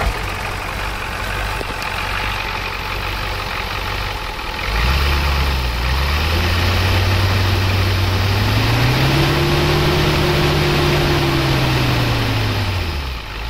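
A somewhat warm 1988 Ford 7.3 IDI naturally aspirated diesel truck cranks over, fires and settles into a loud, close idle, its low rumble rising and then easing back to a steady clatter.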